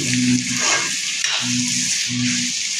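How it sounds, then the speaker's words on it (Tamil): Onions sautéing in a pan for prawn thokku crackle and sizzle loudly and continuously, close by, with a few faint stirring scrapes riding over the steady fry. "வெங்காயம் நல்லா வதங்கிச்சு பொன்னிறமாக"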